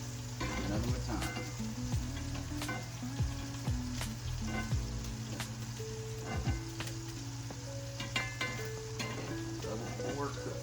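Sausages frying in a cast iron pan, a continuous close sizzle with repeated scrapes and clinks of a utensil and scattered snaps of popping fat, with a low background hum.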